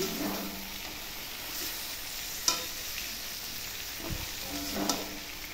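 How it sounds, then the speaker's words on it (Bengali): Chicken pieces sizzle steadily in hot oil in a pan, a continuous fry punctuated by a few scraping stirs of a spatula, close by and with no one talking. "চিকেনটা কষা হয়ে গেলে তেল ছেড়ে দেবো।"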